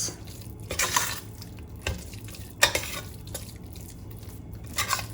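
Freshly grated coconut being stirred into pongal in a pot, giving soft scraping and clinking strokes at irregular intervals over a low background hiss, with no voices.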